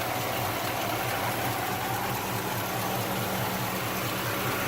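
A 1976 Pontiac Firebird with low-hanging headers idles with a steady, even rumble and a slight exhaust leak adding a faint ticking rasp, heard close and continuous with no talking.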